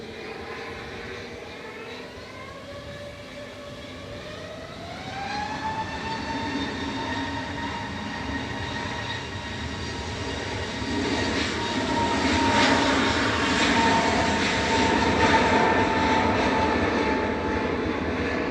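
A Loganair Embraer ERJ 145 regional jet from Aberdeen touches down at Manchester Airport, its engine roar distant at first and swelling steadily louder, with a rising whine and no speech over it.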